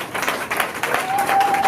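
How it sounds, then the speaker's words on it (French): Wedding guests clapping together at a ceremony, a short burst of dense applause at fairly close range with a faint tone running underneath. "On applaudit pour lui, s'il vous plaît."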